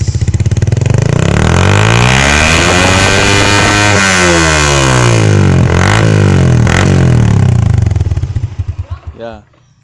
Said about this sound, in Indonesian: Ya, demikianlah suara knalpot Shogun 110 yang sudah kita bobok.